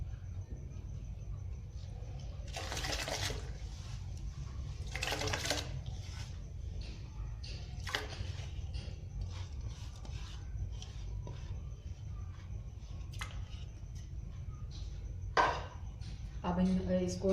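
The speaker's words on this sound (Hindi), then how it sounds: "अब इसके अंदर हमने चावल डालने हैं।" Raw rice grains poured into a pot holding cardamom for carrot kheer: two short bursts of rattling grains stand out over a steady low kitchen hum, followed by faint scattered clinks.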